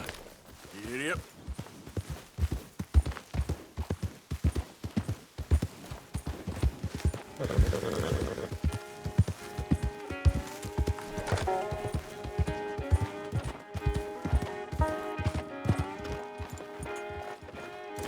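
Horse hooves clip-clop at a quick gallop in Red Dead Redemption II, a steady loud rhythm of hoofbeats running throughout, with a brief whinny early on and sustained tones layered over the pounding steps.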